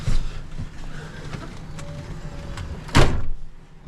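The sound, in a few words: trailer door being opened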